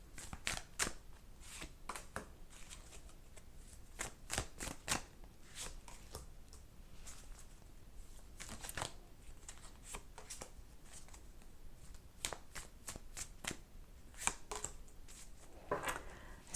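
Tarot cards are shuffled and drawn by hand in a quiet room, giving soft, close riffling flutters and crisp snaps that come in irregular bursts.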